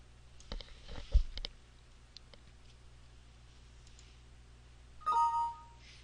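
A short burst of close computer mouse clicks while a software license code is entered for a Clouds2Max network render node, followed by quiet and then a brief electronic tone.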